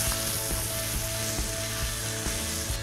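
Minced meat mixed with tomato sauce sizzles and fries in a pan, a dense steady crackle with occasional stirring scrapes, close and fairly loud, with no voices.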